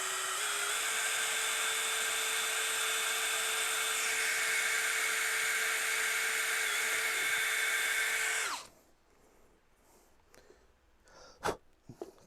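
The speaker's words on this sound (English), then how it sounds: "So I'm just drilling some pilot holes, literally just to make sure that the screws don't snap." A power drill whines at high, steady speed for about eight seconds as it bores pilot holes for screws into a faceplate, then stops abruptly, leaving quiet room noise and a few faint clicks.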